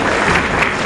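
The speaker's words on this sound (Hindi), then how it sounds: "जोरदार तालियां सभी के लिए।" Brief burst of loud, dense clapping from an audience at a Teachers Day award ceremony at a civic centre, continuous crowd applause with no speech heard.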